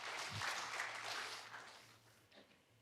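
A church congregation at an online worship service applauds softly and at a distance, a faint, brief patter of clapping that fades out after a couple of seconds.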